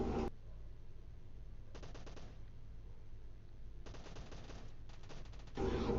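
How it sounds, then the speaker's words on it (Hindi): Automatic gunfire bursts in a battle royale video game, with rapid rattling volleys at moderate distance separated by quiet gaps, plus a louder close burst at the end. "तभी मेरे को पीछे से फायरिंग आई"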